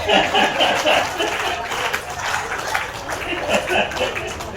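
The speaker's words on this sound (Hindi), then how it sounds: "तालियां बजा।" Audience at a Hindi poetry recital clapping in a steady, full burst of many hands, with some chuckling and crowd murmur mixed in beneath the applause.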